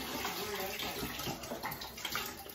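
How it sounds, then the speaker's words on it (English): Water from a tank draining steadily in an off-grid cabin bathroom, a continuous close rush and trickle that runs the whole time with no talk over it. "Draining the tank."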